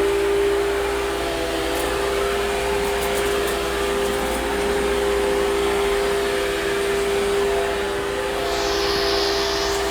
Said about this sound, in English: I like this vacuum.